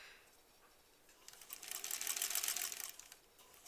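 A sewing machine stitches a granny squares quilt, its needle running in a rapid close whirring chatter that swells in the middle and then eases off, faint overall and without speech.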